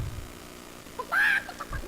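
A chicken card in the Hearthstone video game gives a short honking, squawking bird call, a single clear burst heard over quiet game background.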